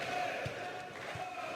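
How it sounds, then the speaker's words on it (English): Prometey supporters at a Ukrainian Superleague volleyball match, a steady roar of crowd cheering filling the hall, with a couple of dull thuds and commentator-like voices mixed underneath. "we hear the cheering of Prometey"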